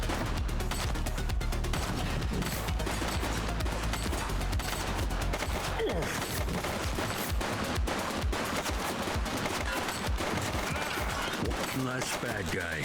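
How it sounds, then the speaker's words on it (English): Dense, continuous gunfire from a shootout in The Precinct video game, rapid bursts and overlapping shots running nonstop at full loudness with a voice talking underneath. "He's shooting."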